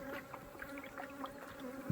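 Honeybees swarm agitated around an opened beehive, their faint, steady buzzing drone heard close by with individual bees whirring past the listener and no voices.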